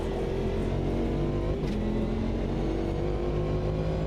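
Race cars in the sim game Automobilista 2 roar through a multiclass race with GT4 cars in traffic, a loud steady engine drone held at high revs throughout with no voices over it.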